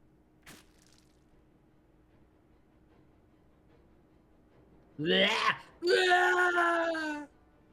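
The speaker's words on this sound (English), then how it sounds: "A blood-curdling scream shrieked in the distance, followed by the grisly sound of ripping flesh" A blood-curdling scream from a video game, two loud wailing cries in quick succession near the end, the second longer and sustained, after a short sharp click and near silence.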